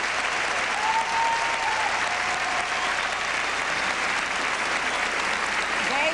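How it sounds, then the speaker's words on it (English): Dense, steady applause fills a ballroom at a 1984 professional dance championship in New York City as the couples leave the floor, continuous and even throughout, with a faint voice briefly audible underneath. "Let's have a wonderful round of applause for our couples as they leave the floor."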